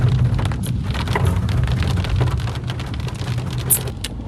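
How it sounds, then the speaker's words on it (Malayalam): Heavy rain on a road trip from Athirappilly to Valparai, a loud, dense, continuous patter of drops on surfaces with a steady low rumble beneath, no voices. "ഇപ്പൊ മഴ കൂടി"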